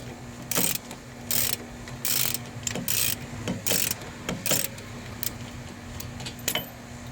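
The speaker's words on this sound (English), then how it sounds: "I'm using an extended ratchet." Extended ratchet loosening wheel bearing bolts on a 2013 Chevrolet Malibu, giving a series of quick, sharp clicking bursts spaced about half a second apart, close and crisp.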